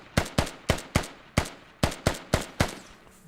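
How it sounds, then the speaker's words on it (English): Nine sharp, evenly spaced gunshots ring out one after another in a competitive video game match, each crack loud and close with a quick decay, and no voices over them. "Here's the gunfire."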